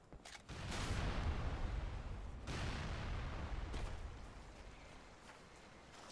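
Explosions in the Halo Online (ElDewrito) shooter game, set off during weapon testing in Forge mode: a broad boom at the start followed by another blast a second or so later, each leaving a rumbling tail that fades out, heard quietly with no talking.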